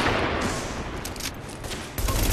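Gunfire in The Division video game, a dense fusillade of shots that runs throughout, loud and close, with a heavier burst near the end.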